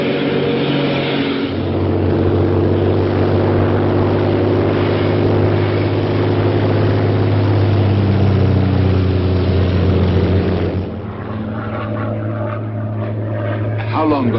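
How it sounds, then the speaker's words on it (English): A Royal Air Force propeller plane from a 1943 wartime film drones steadily in flight over Dover, a loud, close engine hum that holds throughout and eases slightly near the end. "This very moment, a Royal Air Force plane is waiting for us at a secret landing place."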